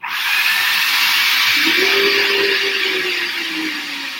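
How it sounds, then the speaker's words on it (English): A food processor runs loudly and steadily, its motor whirring with a high whine. The pitch shifts slightly partway through as the contents blend. "get the blender going, or the food processor going"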